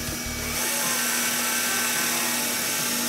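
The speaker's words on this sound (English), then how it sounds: "Take your drill bit, line up on your mark." A power drill whines steadily at high pitch while boring a hole in a metal fence male-to-male connector, starting abruptly and running continuously and close for several seconds, alone without speech.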